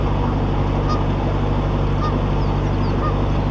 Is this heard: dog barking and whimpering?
no